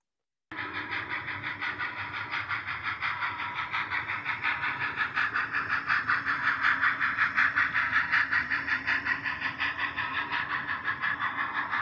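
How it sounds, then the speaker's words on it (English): An On3 scale model train runs steadily on a layout with a rapid, rhythmic chuffing hiss that starts abruptly and carries on evenly, fairly faint and alone. "You'll see a train run by here."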